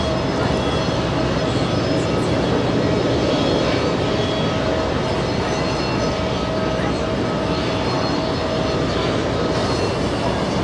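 A Boeing 747 airliner at JFK airport produces a loud, sustained jet engine roar with a steady whine that runs throughout, while a voice talks faintly underneath.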